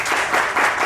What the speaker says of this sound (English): So by round of applause